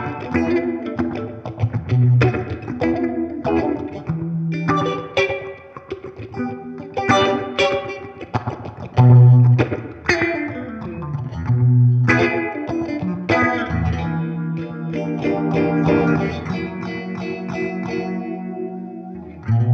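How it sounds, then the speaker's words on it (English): An electric guitar runs through a phaser effect from a Lichtlab Audio Cassandra pedal, playing loud chords and riffs with a swirling, sweeping tone and a brief pause or two along the way. "I chose to have a phaser sound coming from that pedal"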